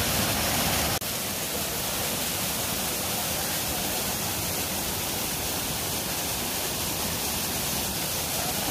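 A waterfall near Lake Louise pours in a dense, continuous broadband roar, steady and fairly close, with a brief knock near the start and no voices.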